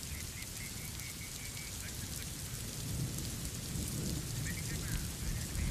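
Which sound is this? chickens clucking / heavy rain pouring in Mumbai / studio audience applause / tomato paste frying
heavy rain pouring in Mumbai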